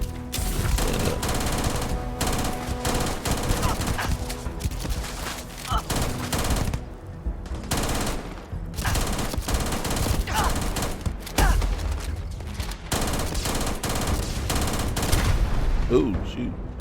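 Loud, dense gunfire from enemies in the sci-fi shooter Starfield, with rapid overlapping shots and bursts coming in waves with brief gaps over the whole stretch.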